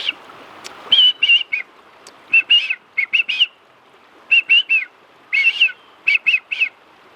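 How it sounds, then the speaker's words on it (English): A loud, high whistle at night near a summer campsite, repeated in quick bursts of two to four short notes, with pauses between groups and no voices. "if you hear a whistle like that at night"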